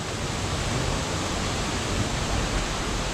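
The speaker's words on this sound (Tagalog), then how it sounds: "So yun ang waterfalls lang." Glencar Waterfall in Ireland roars as a dense, steady wash of falling water, loud and close, filling the whole moment without pause or voices.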